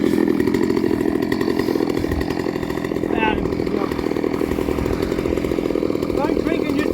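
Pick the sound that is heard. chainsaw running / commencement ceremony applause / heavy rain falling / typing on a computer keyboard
chainsaw running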